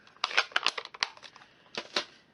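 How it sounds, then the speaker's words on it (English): Scissors trim a piece of stamped cardstock paper, a series of crisp close snips and rustles in quick irregular bursts, then a brief pause and two more cuts, with no talking. "And then I'm just going to trim that with my scissors."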